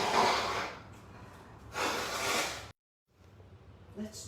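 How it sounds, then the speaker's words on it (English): A person blows their nose in two long, breathy nasal bursts, close and fairly quiet, followed by a brief silence and a soft sniff. "But I have to blow my nose."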